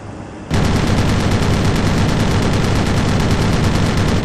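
Aircraft guns strafe targets in a flight video game, a loud, unbroken rapid-fire burst that starts abruptly after a brief lull and rattles on steadily.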